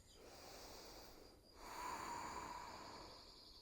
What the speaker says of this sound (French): Gardez bien la respiration Ujjayi.